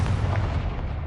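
A Confringo fire spell bursts in Hogwarts Legacy, a loud, short booming explosion with a dense low rumble that decays over about a second.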